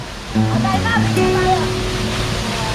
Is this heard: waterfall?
yes